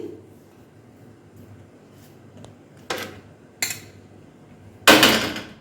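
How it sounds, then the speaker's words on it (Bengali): Cooked semolina is tipped from a pot onto a plate and spread out. Quiet scraping leads into three sharp metallic clanks of utensil against plate, each louder than the last, the final one ringing longest. "এবার এটাকে একটা থালার মধ্যে ঢেলে নিচ্ছি"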